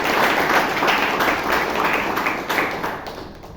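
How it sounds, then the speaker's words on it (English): Sustained applause from a Toastmasters meeting audience in Bangalore for an evaluator, dense clapping holding steady for several seconds and tapering slightly at the end. "So can we have a round of applause for the first evaluator, Toastmaster Alan Ananda."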